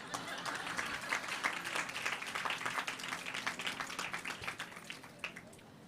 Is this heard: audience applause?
yes